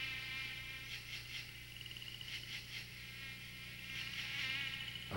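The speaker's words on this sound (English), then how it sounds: "Mosquitoes come out and seek the warmth of his body." Mosquitoes whine in a rainforest at dusk, a thin high buzz that swells and fades in repeated passes close to the ear over a steady low hum of night insects.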